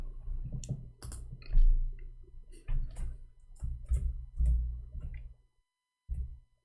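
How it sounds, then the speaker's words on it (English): Computer keyboard typing: irregular bursts of sharp, close clicks and taps with short pauses, ending in a brief gap and one final cluster of keystrokes. "Oops, I'm typing in English."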